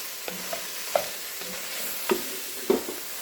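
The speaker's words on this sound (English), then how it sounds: "now we're going to add in our sausage." Sausage stirred into a sizzling pot for Cajun red beans and rice; a soft, steady fry hiss runs underneath while four or five sharp scraping stirs clatter at irregular intervals, close and fairly quiet, with no talk.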